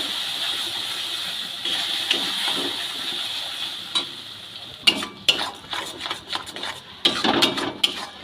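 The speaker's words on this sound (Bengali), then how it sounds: "ভালো করে এবার মিশিয়ে নেব" Raw green banana peel paste being mixed with other ingredients in a bowl: a steady background hiss, then a run of close, sharp scraping and clinking strokes of a utensil in the second half.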